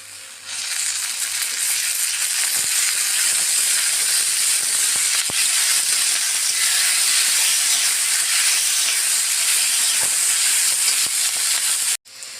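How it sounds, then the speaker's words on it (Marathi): Seeds roasting in a little oil in a pan give a steady, loud sizzle and hiss that runs without a break. A few sharp pops cut through it before the sound drops out abruptly near the end. "बिया चांगल्या भाजून घेते थोडं तेल टाकून भाजले की बिया चांगल्या भाजतात"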